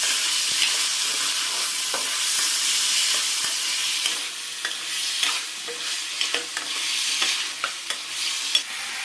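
Chicken seasoned with salt and turmeric is stirred in a hot pan, a steady loud sizzle and hiss running throughout with scraping spoon strokes and occasional clacks against the pan.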